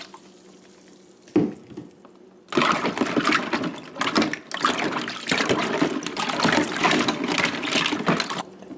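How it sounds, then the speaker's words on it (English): Water gushes into a large container being filled for a bleach soak to remove mold, a loud, continuous splashing rush that starts abruptly after a quiet moment and a single knock. "When you fill the whole thing up with water, you'll need about 3 cups of bleach."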